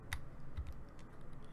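Keyboard keys pressed while adjusting brush size with the bracket keys in Photoshop, a few soft, quick clicks close by over a quiet room hiss, no talking.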